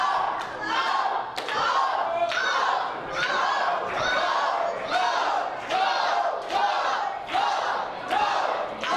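A live wrestling event crowd in Jacksonville, Florida roars and chants in loud rhythmic surges, with repeated thuds punctuating the cheering throughout.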